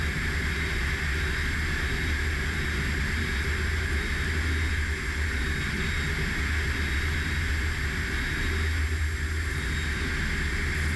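Airplane passing overhead near the Joint Base Lewis-McChord airfield, a loud, steady broadband roar with a low rumble holding evenly throughout, no talk.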